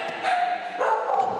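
Dogs bark and yip indoors, with continuous overlapping calls over a steady background.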